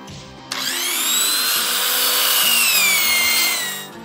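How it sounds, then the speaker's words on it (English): A wire wheel on a power drill scrubs a wooden 4x4 beam, the motor spinning up with a whining hum and a harsh scratching grind that holds steady close by for about three seconds before winding down. "Hit it with the wire wheel"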